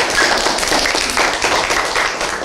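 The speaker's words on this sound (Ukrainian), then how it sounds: "Учасники забав гучно аплодують та підсвистують." Participants at a folk holiday celebration clap loudly and continuously, a dense burst of applause with whistles mixed in, close and sustained throughout.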